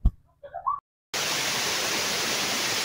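Gaas Falls waterfall pours as a dense, steady roar of rushing water after a brief silence, preceded by a few short voice fragments and a knock.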